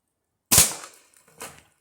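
A Gamo .22 air rifle fires a BB-tip pellet at cans: one sharp, close crack, followed about a second later by a fainter impact snap from the target.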